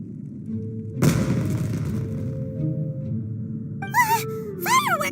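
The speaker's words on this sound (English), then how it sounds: "It sounded like fireworks." Fireworks explode in the Genshin Impact video game with one sharp boom followed by a low rumbling tail, then whistling, rising squeals near the end.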